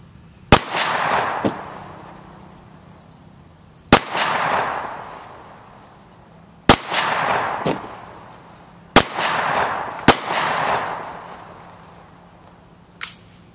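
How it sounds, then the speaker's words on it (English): CZ P-07 pistol, OD green, fired at water jugs 25 yards off outdoors: five sharp, loud gunshots spaced a few seconds apart, each followed by a short rolling echo, with a fainter click or shot at the end. "Let's see how many shots it takes us to get these at 25 yards."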